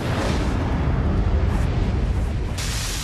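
A dramatic explosion effect depicting antimatter destroying the Earth: a loud, dense, continuous roaring rumble that fills the whole stretch without letup.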